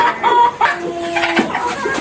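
Desi chickens clucking close by on a farm, several short calls and one drawn-out note, over a light outdoor background.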